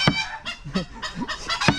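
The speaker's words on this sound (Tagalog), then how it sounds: "Sinabayan man ako ng manok." A laying hen at a farmyard clucks and squawks in loud, repeated bursts, close by and with no voices over it.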